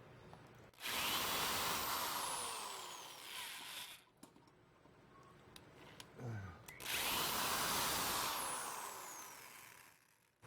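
A power drill driving a screw into a hole in a JMOD plate, two long loud sustained whines each lasting about three seconds, separated by a quieter stretch with brief handling clicks, close to the microphone and without talk.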